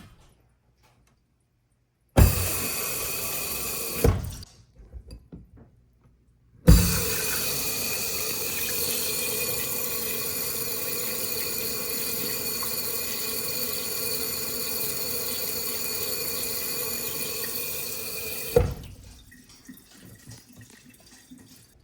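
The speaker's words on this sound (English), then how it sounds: "You turn this on, then you press a glass down on the glass rinser and it works as magic" A kitchen sink glass rinser faucet sprays water in a steady rushing stream, starting after a couple of seconds with a brief burst, then running continuously for about twelve seconds before stopping.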